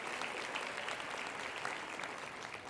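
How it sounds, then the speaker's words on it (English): Steady applause from an audience, dense clapping filling the whole stretch at an even level. "So if you think that's true, clap your hands."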